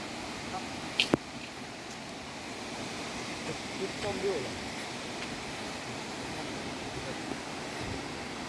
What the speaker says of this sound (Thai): อันนี้น้ำตก